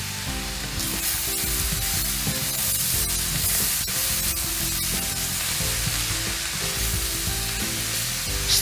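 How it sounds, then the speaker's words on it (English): Jicama, carrots and cilantro sauté in a hot pan with a steady, even sizzle, loud and close, while faint scraping stirs break in now and then. "Stir and continue sauteing for a few more minutes."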